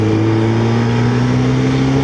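A Honda CBR F3 motorcycle engine revs loud and close, holding a steady droning tone that climbs slowly in pitch, with no voices over it.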